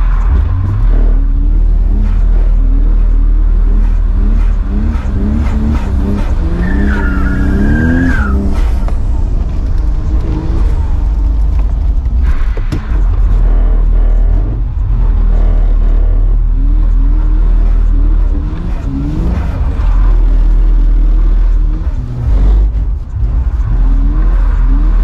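Drift car engine roars and revs hard throughout a drifting session, loud and close, with rising and falling pitch, bursts of acceleration and tire squeal, and voices faintly audible beneath.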